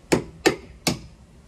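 Three sharp strikes from a 3D-printed plastic hammer, evenly spaced and close, each a dry crack that dies away quickly, with no voices.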